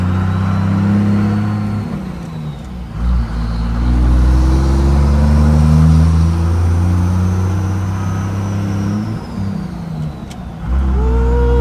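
A 12-valve OBS truck with a turbo engine revs hard during a ride, a loud, close, continuous roar that rises and falls through several pulls.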